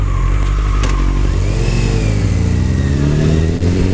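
Motorcycle engine revving hard while riding, a loud close growl that climbs in pitch and holds high, with some mechanical clatter and no talking.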